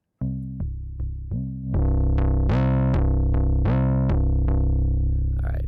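A synthesized 808 bass in the Helm synth runs through distortion, a run of loud gritty tonal bass hits with rich harmonics, first short plucks and then longer overlapping sustained notes.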